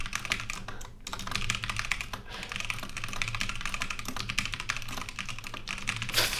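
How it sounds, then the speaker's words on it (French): Steady, rapid keyboard typing fills the whole stretch, keys clattering close and busy with only a brief pause near the start, picked up by an off-camera Synco Mic-D2 microphone. "Et en termes de niveau de bruit du clavier,"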